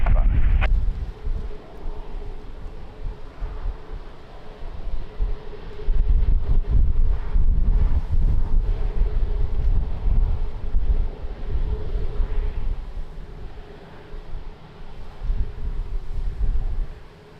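Strong gusting wind buffets an outdoor microphone at Lisbon Airport, a continuous low roaring rush that swells and eases in gusts over seventeen seconds, with faint distant engine hum underneath and no talk.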